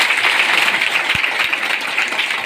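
A group of schoolgirls clapping together in a classroom during a motivational talk, a dense, loud, sustained burst of applause that fills the whole moment without any speech.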